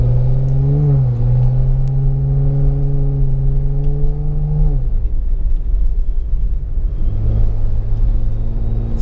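Jeep Wrangler engine rumbling steadily as the vehicle drives, the pitch holding then dropping off as the throttle is released, followed by a quieter coasting rumble and a renewed surge of engine drone.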